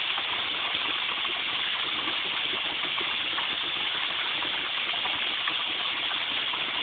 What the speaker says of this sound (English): You can still hear the water. You get a lot of water sound